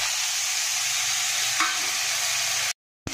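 Fish frying in hot oil in a wok, a steady loud sizzle with a brief stir near the middle, then a sudden cut to silence before a short return of sizzle at the end.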